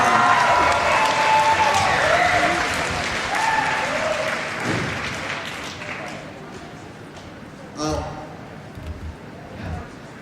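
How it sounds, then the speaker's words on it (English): An audience at an anime convention's closing ceremony applauds, a loud crowd clapping that gradually fades with some cheering, then a few scattered claps and stray noises as it dies down. "Like, get a round of applause."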